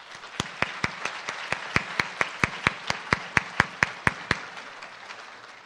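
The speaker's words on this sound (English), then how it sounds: "And I think they, too, deserve a round of applause." At a graduation ceremony, a few people clap slowly and distinctly, about twenty evenly spaced claps that stop abruptly partway through.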